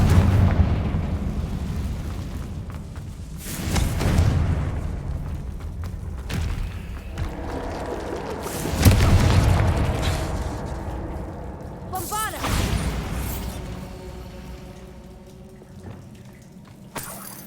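Confringo blasting spell in the Hogwarts video game, several booming explosions bursting at intervals with rumbling decay, a rising magical whoosh in between, and a voice speaking over parts of it.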